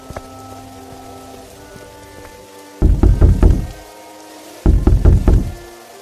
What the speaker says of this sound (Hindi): इतनी रात में काहे कुंडी बजावत है?